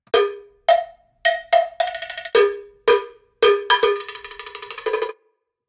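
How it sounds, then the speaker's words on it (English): Percussion bells from a sample library, a cowbell-like metallic tone: single bright strikes, then quick repeated rolls, each note ringing briefly before cutting off cleanly, loud and close with no talk. "So here's the bells on their own."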